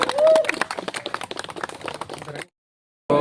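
Crowd clapping at an Indian political rally, a dense burst of claps close by, stopping abruptly and then briefly resuming after a short pause.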